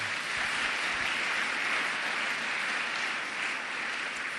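A church congregation at a morning prayer service applauds in praise, a dense, steady wash of clapping that stays loud and unbroken from start to finish.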